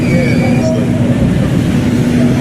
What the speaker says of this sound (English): we are taking one of the most advanced metro trains here in Shanghai